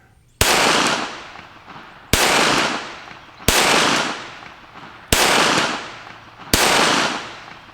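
Five sharp gunshots from a Kel-Tec P17 .22 LR pistol fired outdoors at a distant target, spaced a second or more apart, each a loud crack trailing into a brief echoing decay.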